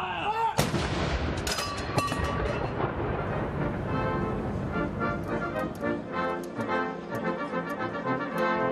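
Artillery cannon fire booms loudly, one heavy shot followed by further blasts and a rolling rumble, with ringing tones sounding under the explosions.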